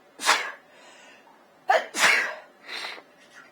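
A person sneezing close by, one sharp burst followed by a doubled sneeze and a softer trailing breath, alone without speech.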